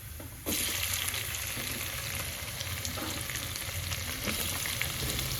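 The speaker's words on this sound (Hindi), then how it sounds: "तो ये 2 बड़ी इलायची डाल दी हैं और ये तेज़पात और इसमें जाएगा ये ज़ीरा। तो इसको हम हल्का सा सौते करेंगे।" Black cardamom pods, bay leaf and cumin seeds hit hot oil with a sudden sizzle that settles into a steady, moderately loud frying crackle, with faint stirring clicks throughout.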